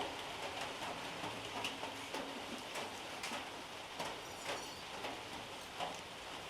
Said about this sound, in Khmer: មេឃកំពុងភ្លៀងបាទ